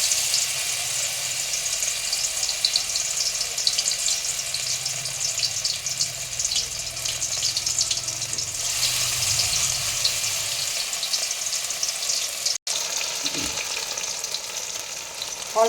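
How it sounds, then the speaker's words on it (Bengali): Bora fritters frying in hot oil in a kadai give a steady, close, crackling sizzle that runs unbroken, with one sharp click near the end and no voices. "আমার কড়াই গরম হয়ে গেছে, তো আমি এখন একে একে বড়াগুলো দিয়ে দেবো"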